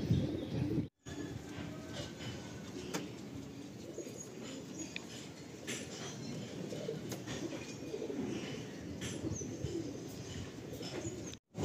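Madrasi pigeons coo in a breeding loft, a steady low murmur of overlapping coos from several birds that carries on throughout, with faint chirps and a brief break near the start.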